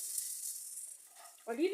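Liver patties fry in a nearly dry pan with a little oil over low heat, a soft steady sizzle that swells louder near the end, likely as a patty is flipped.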